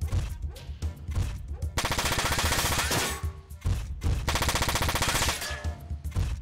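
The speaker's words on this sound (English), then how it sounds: "Good sound on his machine gun" Rapid machine gun fire from a mech in Front Mission 4, loud sustained bursts of rattling shots broken by brief pauses, close and dominant, alone without talk.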